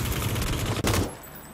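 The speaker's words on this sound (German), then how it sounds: "Da wird geschossen." Video game gunfire, a rapid burst of shots that cuts off sharply and is followed by a brief quieter tail, close and loud, with no speech.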